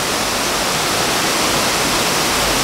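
Constant dense roar of a waterfall in Rancangan recreation park in Sarawak, loud and close, an unbroken wash of falling water with no voices.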